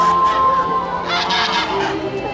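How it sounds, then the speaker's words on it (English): A big white goose honks repeatedly outdoors, loud and near, with harsh overlapping calls that build in intensity partway through. "goose. Old goose."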